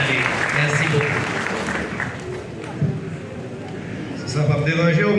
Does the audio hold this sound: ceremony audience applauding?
yes